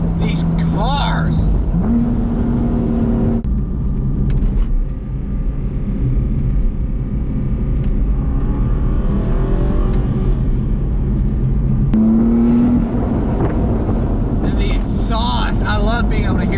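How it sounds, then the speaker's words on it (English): An Aston Martin V8 Vantage engine drones steadily while cruising a bumpy Tennessee mountain road, with shifting pitch as it revs and wind noise throughout, while people talk excitedly inside the car. "This is honestly the best I've been able to hear the Aston since we got it."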